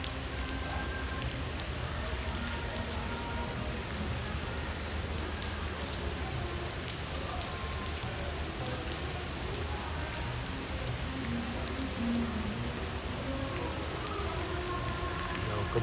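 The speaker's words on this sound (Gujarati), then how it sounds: "હજી વરસાદ તો ચાલુ જ છે." Steady monsoon rain pours down in Surat, a dense, continuous hiss of drops on surfaces that holds at a constant level throughout with no voices.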